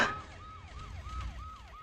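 An emergency siren wails in a repeating rising-and-falling pattern, several even cycles, moderately loud and somewhat distant over low traffic rumble.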